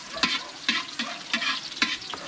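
Onions sautéing in a pan for pansit habhab from Lucban, Quezon, a steady sizzle broken by a spatula stirring and scraping in short, evenly spaced strokes, close up.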